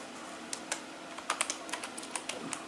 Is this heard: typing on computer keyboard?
yes